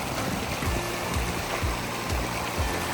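Cold river water rushing past during a hiking river crossing on foot on the Pacific Crest Trail, a steady close stream roar with rhythmic low splashes, like footsteps wading through, and no voices.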